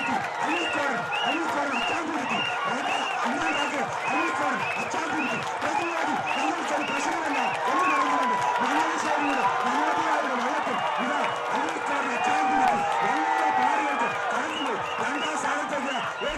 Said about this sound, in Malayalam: ഓരത്തുനിന്നും തടിച്ചുകൂടിയ ജലോത്സവ പ്രേമികൾ ചുണ്ടൻ വള്ളങ്ങളെ ആർപ്പുവിളികളോടെ പ്രോത്സാഹിപ്പിച്ചു